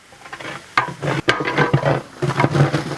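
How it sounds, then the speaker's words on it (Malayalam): Garlic and ginger sauté in a pan for a winter melon chicken curry cooked in a village, giving a steady close sizzle broken by a few sharp scrapes and clicks of stirring. "വെളുത്തുള്ളി, ഇഞ്ചി വെളുത്തുള്ളി ചെറുതായിട്ടൊന്ന് മൂത്ത് വരണം."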